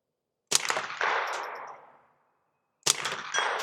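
Two sharp gunshots from a Ruger 10/22 rifle fitted with a Manticore trigger, fired at a steel target 100 yards downrange, each crack followed by a ringing decay, with a pause between shots.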